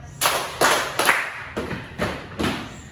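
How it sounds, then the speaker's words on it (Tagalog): A class in a demo-teaching lesson giving three claps and three foot stomps: six evenly spaced, loud group hits, the first three sharper, the last three duller and thumping. "Bigyan din natin ng 3 palakpak at 3 padyak ang ikalawang pangkat."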